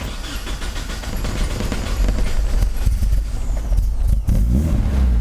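A car with a failing engine starts, churning and rumbling steadily, a low, rough mechanical drone that builds slightly, heard close with no voices.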